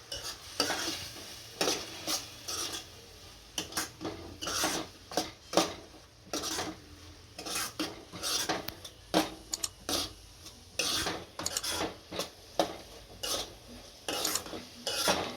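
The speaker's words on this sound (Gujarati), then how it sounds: "આમાંથી તેલ છૂટું પડે ત્યાં સુધી સડવા દઈશું હમણાં હલાવ્યા કરશું" Onion garlic chutney seasoned with turmeric, salt and Kashmiri red chilli fries in oil in a pan while a spoon stirs and scrapes it in steady, close, repeated strokes, with no talking.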